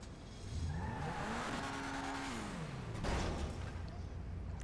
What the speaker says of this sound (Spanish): Ahora nos montamos en el carro y lo metemos en el centro de operaciones.